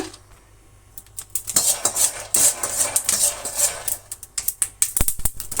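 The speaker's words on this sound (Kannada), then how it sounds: "ಒಂದು ಪಾನ್ ಇಟ್ಕೊಂಡು ಸ್ವಲ್ಪ ಕಡಲೆ ಬೀಜನ ನಾವು ಹುರಿದಿಟ್ಕೊಳ್ಳೋಣ" Peanuts dry roasting in a pan on a stove, with dense clattering and scraping of the nuts and spoon against the metal pan, close and continuous with sharper knocks toward the end.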